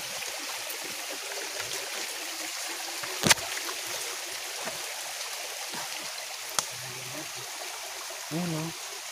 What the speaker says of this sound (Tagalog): May tubig dito, Rick.